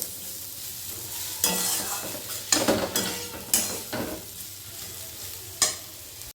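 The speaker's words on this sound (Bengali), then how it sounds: "সমস্ত মশলাটাকে খুব ভালো করে এবার কষবো" Spice masala for a jackfruit curry fried in a pan with turmeric, sizzling steadily while a utensil scrapes and stirs in several sharp bursts, close up and alone.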